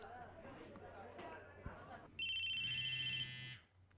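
A phone in a classroom in the visual novel Chaos;Head NoAH gives a loud electronic ringtone of steady bright tones and a low vibrating buzz beneath, sounding midway after soft background voices and chatter, then cutting off.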